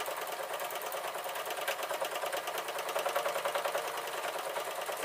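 A sewing machine stitches the waistband of yoga trousers with a steady, fast mechanical chatter that runs without a break, close and moderately quiet.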